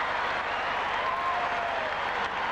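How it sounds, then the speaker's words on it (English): Basketball arena crowd at the Forum during the 1984 NBA Finals Game 7 between the Celtics and Lakers, a steady broadband wash of applause and cheering that holds at an even level throughout, with no clear voices over it. "The action is non-stop, end to end, and the crowd loves it here at the Forum."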